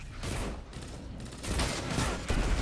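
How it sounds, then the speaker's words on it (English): Heavy rocket launcher fire in the shooter game Destiny 2, a dense burst of loud explosive blasts and booming rumble with no pause, close and alone without voices. "Oh, that's a rocket launcher."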